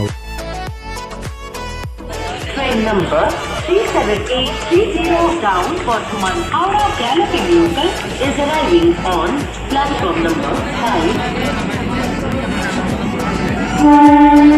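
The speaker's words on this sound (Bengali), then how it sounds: "আমরা এখন এই মুহূর্তে রয়েছি নৈহাটি স্টেশনে" A busy platform at Naihati railway station with a train rumbling close by and a long, loud horn sounding, plus chatter and announcements in the background.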